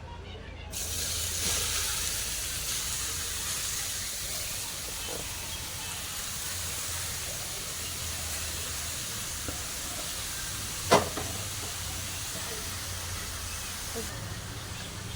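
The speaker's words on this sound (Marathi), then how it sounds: "तापलंय माझं तूप. आता त्यात लगेच खिसलेला हा आपण गाजर घालून घेऊया." Grated carrot hitting hot ghee in a pan for carrot halwa, a steady broad hiss that starts abruptly and holds evenly, with a single sharp clink partway through.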